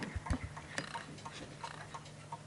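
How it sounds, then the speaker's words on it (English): A vintage Bentima Perivale Art Deco 8-day mantel clock ticks faintly in a steady rhythm, with other clocks ticking in the background of a repair workshop. "So I'll let you listen to the clock."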